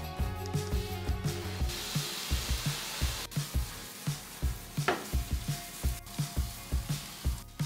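Food frying in a pan until brown and crispy, a steady sizzle under a rhythmic series of close, dull knocks and scrapes as pieces are turned and moved in the pan.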